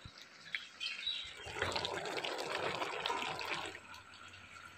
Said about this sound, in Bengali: এই তরকারিটা তো ফুটছে